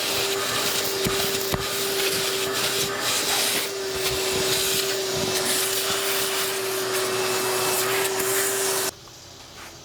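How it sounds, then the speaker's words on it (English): A shop vac cleans dust off a cast iron Delta grinder stand with a loud, steady motor whine and rushing suction broken by brief scraping surges, then cuts off abruptly near the end. "Now I'm going to clean up the whole machine with the shop vac."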